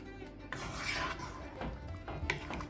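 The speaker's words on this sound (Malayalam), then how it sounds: "നന്നായി ഒന്ന് മിക്സ് ചെയ്തിട്ട് മൂടി വെച്ചിട്ട് കുക്ക് ചെയ്തെടുക്കാം." A pot of Kerala-style vegetable pulao is stirred with a metal spoon, giving close scraping, rubbing and clinking of utensil against pot before the lid goes on.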